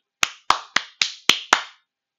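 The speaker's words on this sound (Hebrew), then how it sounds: "כפיים לגיא" Six sharp hand claps in a steady, evenly spaced rhythm, close and loud with nothing else around them.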